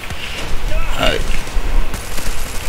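Bursts of gunfire crackle through a busy Far Cry 6 game soundscape, with a voice talking over the shots and a steady low rumble underneath.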